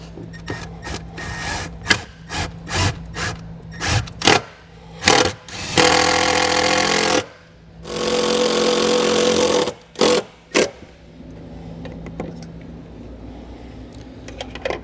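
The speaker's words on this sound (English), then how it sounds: "We're just simply going to put one into either side of the circuit breaker." A power drill drives self-tapping screws to mount a circuit breaker on a vehicle for a Roadmaster battery charge line kit, with rapid tapping clicks and pauses, then two sustained whirring runs and a few final bursts, close and loud.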